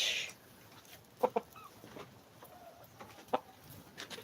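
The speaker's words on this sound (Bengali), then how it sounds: "সবকটাই মোরগ" A few short clucks from chickens and a rooster at a home flock, sparse and moderately near over a low background hum, with quiet gaps between the calls.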